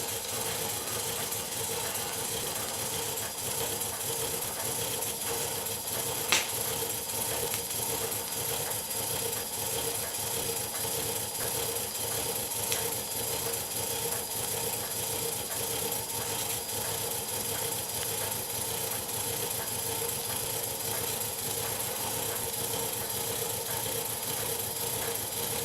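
A 00 gauge live steam model locomotive, Cock o the North, runs with a steady hissing, mechanical whir and faint ticking, struggling to get going, heard close with no talk.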